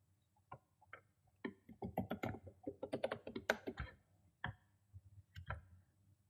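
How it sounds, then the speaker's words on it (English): Quiet, close tapping on a computer keyboard as a password is entered, bursts of quick clicky keystrokes with short pauses and a couple of separate final taps. "I'll just type a random password"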